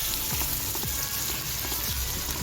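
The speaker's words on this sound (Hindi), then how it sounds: "प्याज के साथ 1-2 मिनट फ्राई कर लीजिए" Onion and tomato fry in hot oil in a pan with a dense, continuous sizzle and crackle, loud and close throughout, with no voices.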